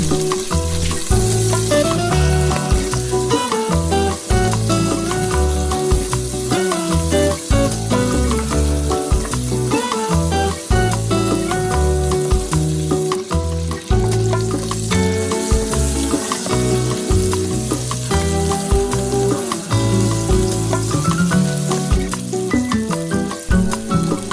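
Onion sizzles loudly in a hot pan of oil while pakbet is cooked, a constant close frying hiss with stirring scrapes, continuous and alone without any voices.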